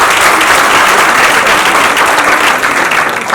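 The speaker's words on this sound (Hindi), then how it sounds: "अनुमोदना तालियों से हम कर सकते हैं" Audience applause at a baby shower and procession gathering, dense and loud clapping from a large crowd, continuous and even throughout.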